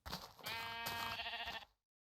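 A single sheep in Minecraft bleats once, a short, close, wavering call standing alone.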